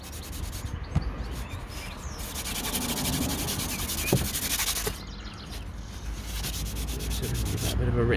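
Wet sanding a BMW 525i M Sport E60 exhaust tip by hand with 2000 grit paper: a steady, close abrasive rubbing that runs the whole time with short strokes and a few light taps, and no talk.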